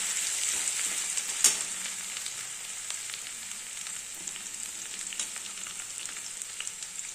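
Grated ginger frying in a pan for a paneer kalia: a soft, even sizzle runs throughout, with scattered faint scrapes of stirring and one sharper clack near the start.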